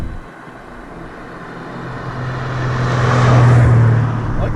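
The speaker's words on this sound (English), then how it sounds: "I do love this 5-liter V8. Beautiful engine." A BMW E39 M5 with a 5-liter V8 and bolt-on upgrades drives along, its engine a steady low drone heard from inside that swells into a louder rev around the middle and eases off slightly at the end.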